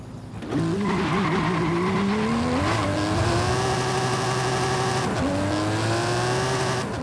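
An Aston Martin DBS Superleggera's twin-turbo V12 pulls hard, its tone rising steadily through a couple of gear changes, loud and close with no voices.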